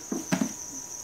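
Crickets kept in a container for feeding make a steady high chirp, with a few soft taps and rustles from handling the container nearby.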